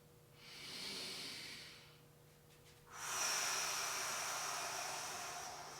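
Two deep, audible breaths during a stretching exercise: a slow airy inhale-exhale, a short pause, then a longer, louder breath with a hissing quality, close and alone with no talking.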